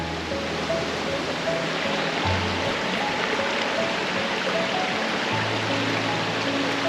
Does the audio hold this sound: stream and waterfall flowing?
yes